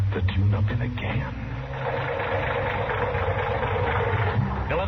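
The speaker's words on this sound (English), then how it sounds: "that engine of yours sounds like real tired iron" A tired, worn-out car engine idles at a gas station in an old radio drama, a low steady rumble running under a voice talking throughout.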